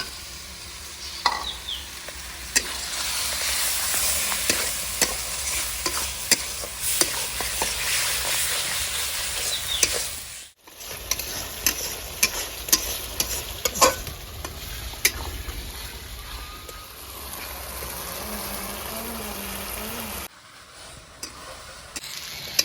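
Chopped tomatoes fry in a gravy of a rural-style light fish curry with rohu fry, potato and broccoli, stirred steadily with a spoon; a loud continuous sizzle carries repeated scraping clicks, with two short breaks in the sound.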